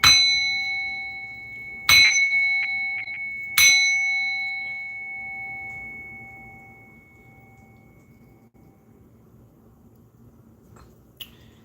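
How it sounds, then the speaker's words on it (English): A bell rings three times in quick succession, each clear metallic tone lingering and slowly fading into quiet. "Let's ring this bell."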